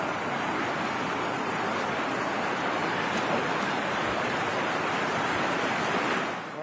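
Swollen creek in flood near Falls City, Washington, rushing over its banks during an atmospheric river storm, a steady, loud broadband roar of turbulent water filling the whole stretch without a break and easing only slightly at the very end.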